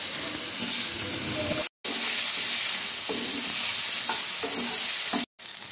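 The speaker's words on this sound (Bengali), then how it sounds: "ডুমো ডুমো করে কেটে রাখা আলুগুলোকে দিয়ে দিতে হবে।" Diced potatoes frying in hot oil in a wok, with whole garam masala, cumin and dried chillies, give a steady loud sizzle and hiss, stirring scrapes heard now and then, and two brief dropouts break the sound.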